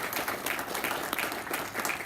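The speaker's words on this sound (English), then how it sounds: "So please give a big round of applause, everybody who helped out." A room of attendees at a county political party's November meeting claps together, a steady crowd applause of moderate loudness heard a little distant, with no one speaking over it.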